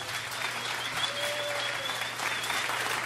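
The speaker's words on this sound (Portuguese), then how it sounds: "Peço um grande aplauso" A theatre audience applauds as a Brazilian instrumental band and its trumpet player are welcomed onstage, a dense, even wash of clapping from a large crowd, sustained throughout at moderate distance.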